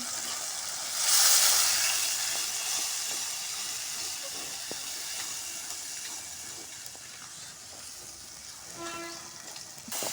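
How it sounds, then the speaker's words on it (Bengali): Spice paste with cumin, chili and salt fries in hot oil for a beef curry, giving a steady, loud, hissing sizzle like escaping steam that runs without a break and with no voices. "কত সুন্দর মশলাটা কষা হয়ে গেছে এটা দেখুন তেল কালে গেছে"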